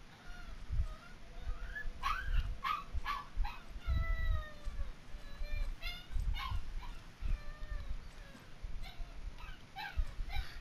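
Over about ten seconds a puppy keeps up a steady stream of high whimpers, whines and small yips, close by and fairly loud, with no speech over it.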